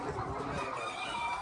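Chickens on a farm cluck and murmur in a soft, close, continuous chatter, with no talking over them.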